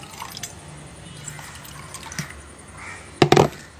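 Water poured into a glass: quiet faint drips at first, then a short, louder splashing pour close by near the end.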